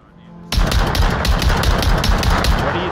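Dense rapid gunfire erupts suddenly in the VR shooter Onward during a competitive match, a loud sustained burst of closely spaced shots with a commentator's voice faintly underneath.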